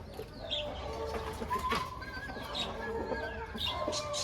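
Hens and roosters cluck and call close by in a pet poultry sale yard, with overlapping bird calls and a murmur of background voices throughout.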